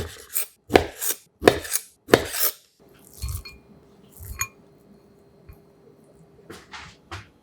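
A knife chops sharply through salmon on a board, about five quick cuts in a row, followed by quieter scraping and soft clinks.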